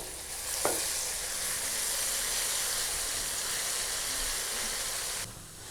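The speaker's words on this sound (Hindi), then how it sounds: "अब हम इसमें अदरक लहसुन का पेस्ट डालेंगे।" Ginger garlic paste sizzles loudly in hot oil with golden-browned onions while cooking a Pakistani degi-style aloo gosht curry, a steady broadband frying hiss running almost continuously with a brief sharp crackle near the start, no talking.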